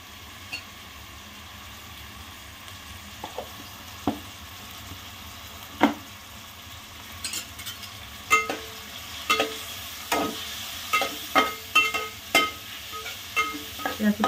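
Onion, tomato and turmeric frying in a pan for veg pulao, stirred with a utensil that scrapes and clinks in a steady rhythm of a dozen strokes over a soft continuous sizzle, close and without talk.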